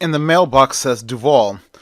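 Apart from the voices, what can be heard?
No everyday noises stand out.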